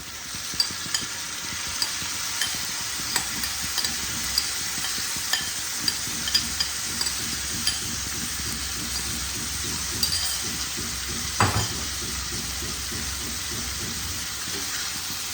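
Banana blossom fries in a pan with a steady, continuous sizzle while a utensil stirs it, scraping and occasional light clinks of metal against the pan breaking through the even hiss.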